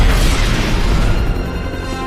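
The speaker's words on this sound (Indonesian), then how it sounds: "Heli Tuco meledak jadi serpihan logam panas di udara." Helicopter hit by fighter-jet missiles exploding in midair in an action film, a loud sustained booming blast with crackling debris that decays slowly.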